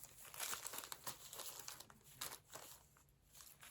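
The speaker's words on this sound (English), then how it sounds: "I'm gonna move some of the plastic bags over" Plastic bags are shifted and crinkled in a continuous, faint rustle with irregular crackles, heard alone without speech.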